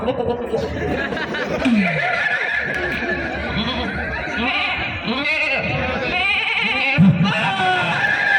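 At a live comedy show, a voice imitates a goat bleating with wavering, drawn-out calls mixed with speech and chuckling, loud and close over a noisy crowd background.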